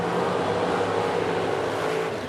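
A 1983 Chevrolet Camaro drag car launching down the right lane at an Edmonton drag strip, a loud, steady, continuous engine roar filling the whole stretch with no break.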